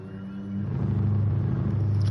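A Jaguar engine in Gran Turismo Sport gives a steady low rumble that swells after a quiet start and then holds, fairly loud, with no voices over it.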